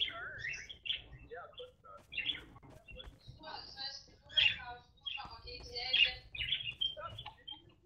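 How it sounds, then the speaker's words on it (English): Bird chirps sound from a prop hunt video game, with repeated short, bright tweets in irregular bursts, fairly faint throughout. "There's two of us that have freaking birds."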